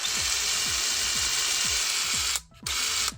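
A Ridgid 18V SubCompact brushless impact driver runs with a steady high whine and a rapid series of regular hammering clicks, close and loud, then cuts out briefly before starting again.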